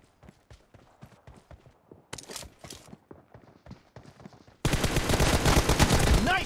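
Sniper rifle shots in a PUBG team deathmatch ring out as a string of sharp, fairly faint cracks at an irregular rhythm, then give way to a much louder, dense barrage of firing near the end.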